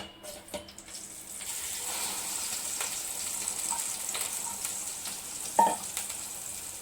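A sweet paste cooks in ghee in a heavy-bottomed pot, giving a faint, soft sizzle with light stirring and scraping noises and a brief clink near the end.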